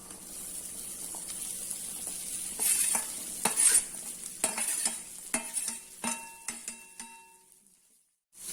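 Boiled, chopped jackfruit seeds frying in a pan on a low stove, a quiet sizzle broken by a series of spoon scrapes and clacks against the pan that grow sparser before stopping, no talk.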